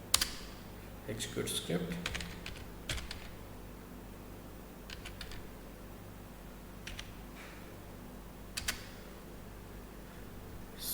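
Code being typed on a computer keyboard, bursts of quick clicking keystrokes separated by pauses, close and moderately loud, with someone talking between the bursts.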